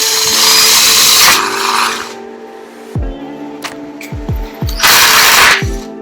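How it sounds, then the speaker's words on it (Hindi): A Makita TD127DWE impact driver drives a screw, with loud bursts of rapid hammering and whirring, alternating with short trigger pulses and brief motor spin-ups, close by. "पर इम्पैक्ट ड्राइवर का साउंड मैं आपको सुनाता हूँ।"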